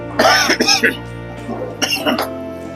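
Several harsh coughs and throat-clearing sounds, close and loud, in two bursts separated by a short pause, caused by pungent fumes from frying chicken liver.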